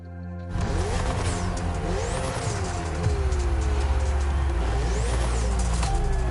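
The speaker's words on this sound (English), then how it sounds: "Ferrari meets Red Bull." Ferrari and Red Bull race cars in The Crew Motorfest driving on a circuit, with engines roaring steadily and rising and falling in pitch as gears change and the cars pass, loud and continuous throughout.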